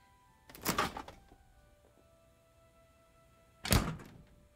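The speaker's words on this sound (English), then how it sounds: "Make sure your form is sealed when you shut that freezer door." A freezer door thuds shut twice, two short, solid knocks a few seconds apart, close and moderately loud over a quiet room with a faint background hum.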